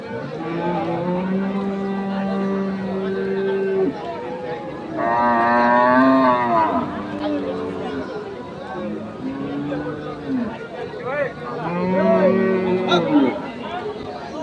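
Loud, close moos of crossbred cattle at a village cattle market, several long drawn-out calls one after another, with people chattering faintly in the background.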